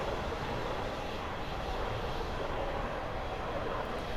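Eurofighter jet engines idling in Microsoft Flight Simulator 2020, a steady loud broadband roar with an unbroken, even drone throughout.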